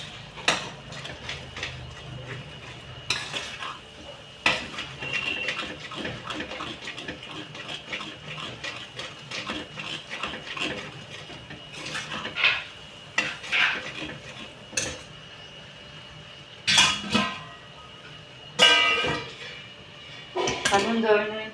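A metal spoon stirring rice kheer in a cooking pot, with irregular clinks and scrapes against the metal and a few sharper knocks near the end, close and moderately loud.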